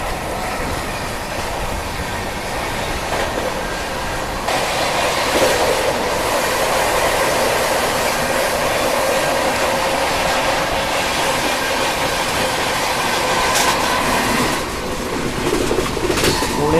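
Indian express train running at speed and overtaking on the Ranchi Rajdhani route, a steady loud rolling rumble with clickety-clack wheel rhythm and wind rush, heard from onboard, with brief chirps over it.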